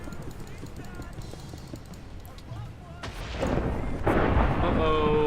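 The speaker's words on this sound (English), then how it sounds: "That sounded like an explosion." An explosion in Minecraft during a rainstorm: steady rain, then a sudden deep boom with a rumbling tail, followed by a second louder blast near the end.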